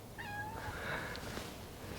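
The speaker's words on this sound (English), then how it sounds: "It's my damn cat up there." A cat meows once or twice up close, a short rising cry that stands out clearly against a quiet room.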